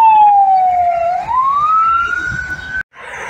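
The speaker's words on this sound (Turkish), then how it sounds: "Ambulans." An ambulance siren wails loudly and close at a Bursa bus terminal, a single long tone falling and then rising in pitch before cutting off abruptly, with a bus station soundscape underneath.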